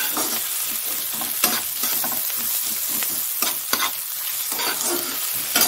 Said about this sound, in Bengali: আর পেঁয়াজও দিয়ে দিয়েছি। সেটা ভাজা হবে।